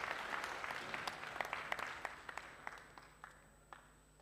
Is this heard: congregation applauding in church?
yes